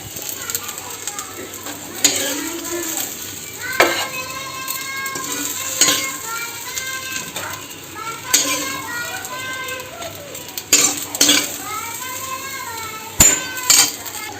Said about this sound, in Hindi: यहाँ फिर से तेल डाल डाले हैं थोड़ा से ओकर बाद फ़ौरन पर ले ली हूँ जीरा और प्याज